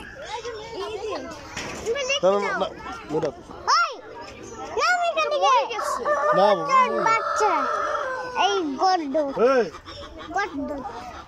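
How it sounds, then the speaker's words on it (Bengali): Black chickens in a yard, crowing and clucking with repeated calls, heard among lively voices of people and children talking nearby. "কত কালো মুরগি।"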